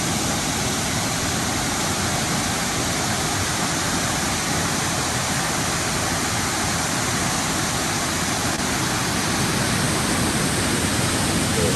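Steady, loud rush of a large river flowing underneath a vantage point near Mt. Shasta, a dense unbroken roar of water holding even for the whole stretch with no voices.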